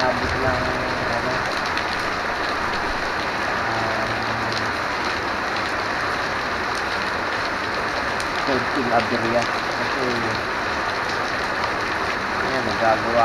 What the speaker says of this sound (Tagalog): Hindi namin in-expect na lalakas ng ganito kalakas ang ulan.